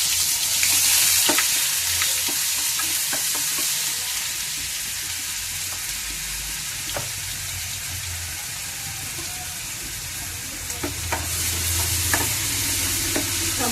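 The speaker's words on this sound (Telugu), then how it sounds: "ఇదో మసాలా వేస్తున్నానండి" Masala being stirred into a frying pan for a brinjal tomato curry, a steady loud sizzle with occasional sharp clicks of the spoon against the pan, close up throughout.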